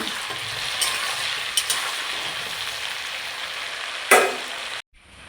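Fish roe frying in oil with salt and turmeric, a continuous dense sizzle with a few spatters and one louder burst near the end before it cuts off.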